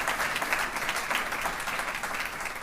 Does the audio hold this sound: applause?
yes